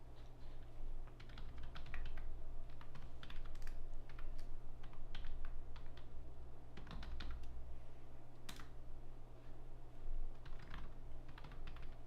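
Steady typing on a computer keyboard while a YouTube ID and password are entered, with a brisk, uneven stream of close key clicks over a constant low hum.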